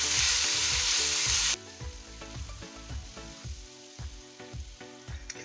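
Crushed garlic paste sautés in hot oil in a pan. A loud, bright sizzle is heard for about a second and a half, then cuts off abruptly, leaving quieter rhythmic clinks and stirring sounds.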